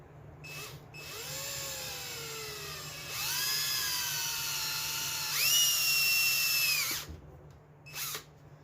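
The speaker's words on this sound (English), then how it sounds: "I'm going to take a small drill bit right in that hole" A small power drill whines in several bursts, drilling a small bit into the body of a 1977 Chevy Camaro, its pitch rising and falling as it bites in, close by with short pauses between runs.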